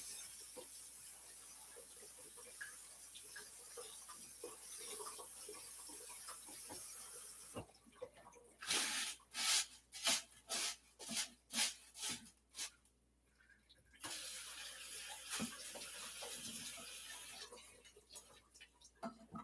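Running tap water splashes over black berries being rinsed, a steady hiss at first that then turns into irregular spattering bursts and pauses as the berries are moved under the stream, then a steady flow again.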